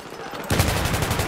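Sudden burst of rapid gunfire in Battlefield 3 co-op starting after a brief quiet moment, loud and rattling in quick succession.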